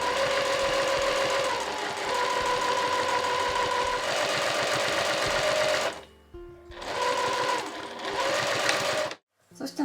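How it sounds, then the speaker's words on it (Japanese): A sewing machine runs steadily while stitching a narrow 5 mm rolled hem on a gathered dress, a loud continuous mechanical whir with a brief slowdown and stop near the end. "そしたらこの際の部分を縫います。"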